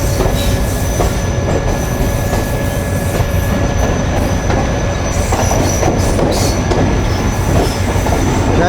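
The Tezgam passenger train runs at restricted speed in Pakistan, heard from on board as a loud, continuous rumble of wheels on rails with faint high squeals and no talking.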